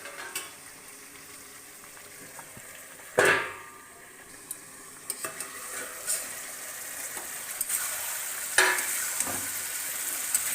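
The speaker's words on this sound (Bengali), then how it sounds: "মাংস কষে আইতেছে" Meat frying in a pan for a Bengali curry, browning in oil before potatoes go in, with a steady sizzle, a few sharper stirring scrapes and clinks, and no talking.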